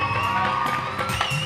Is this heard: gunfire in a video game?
no